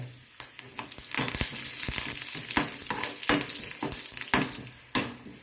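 A tempering of onion browning in hot oil fries with a busy, crackling sizzle, punctuated by sharp clatters of a spoon stirring and tapping the pan, with curry leaves added into the spitting oil.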